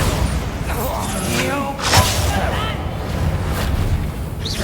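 Bombarda explosion spell in the Hogwarts Legacy video game, a booming blast that erupts about two seconds in amid steady game rumble and effects, with a voice speaking over the din.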